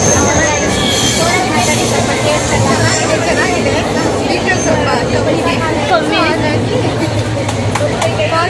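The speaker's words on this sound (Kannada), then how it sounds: "ಟ್ರೈನ್ ಹೊರಟಿದೆ, ಹೋಗ್ತಾ ಇದ್ದೀವಿ" A moving train to Mantralayam rattles and squeals steadily along the rails, with people chattering in the carriage over the constant clatter.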